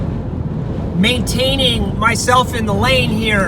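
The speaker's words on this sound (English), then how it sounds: "the wind gusts are probably severe levels right now" Severe monsoon wind gusts buffet a car driving in the Mojave Desert near Barstow, California, a constant low roar running beneath someone talking throughout.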